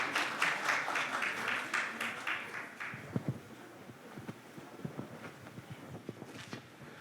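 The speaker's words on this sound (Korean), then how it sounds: "큰 박수로 맞이해 주시기 바랍니다" Brief burst of audience applause greeting presenters from the Jeonju ecological stream council at a Korean river contest, dense clapping for about three seconds that thins into scattered claps and rustling footsteps.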